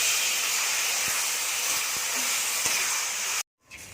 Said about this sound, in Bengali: এই দেখুন এদিকে ঝোলটা ফুটে উঠেছে